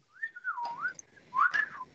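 A person whistles in imitation of a parrot, two short rising-and-falling warbling phrases, close and clear, with no talking.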